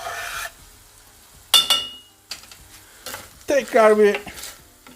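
Chopped peppers are stirred into a sizzling minced-meat pasta sauce in a pan, with a few scraping, spreading strokes and a soft frying hiss between them. A person speaks Turkish over the cooking.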